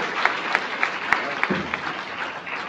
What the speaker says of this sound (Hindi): इनके लिए जोरदार तालियां, जोरदार तालियां, जोरदार तालियां।